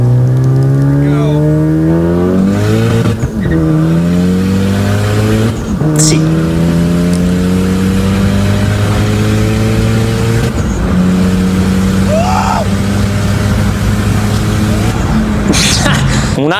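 A modified car with an external wastegate revs repeatedly. Its engine note climbs and falls in several loud rising sweeps with short breaks between them, and a voice speaks briefly over it.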